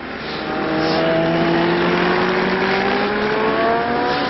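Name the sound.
Honda motorcycle number 45 racing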